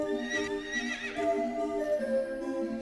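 A horse whinnies in the video game Dungeon Bodega Simulator, a bright wavering neigh over steady background music, rising and trailing off across a few seconds with no talking.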